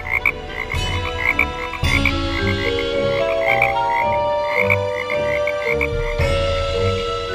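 Many frogs croak loudly and continuously in overlapping, rhythmic calls, close by, with a bright chirping chorus layered on top.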